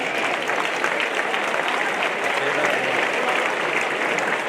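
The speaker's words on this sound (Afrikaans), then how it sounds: "Daarvoor het hy hande klap nodig." A school crowd at a high school opening ceremony claps in steady, dense applause that fills the whole stretch at an even, loud level.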